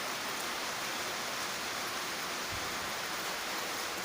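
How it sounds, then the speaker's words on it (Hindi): Steady, dense rainfall hisses evenly throughout at an ashram, with no voices. "લાઈવ વરસાદ અત્યારે ચાલુ છે."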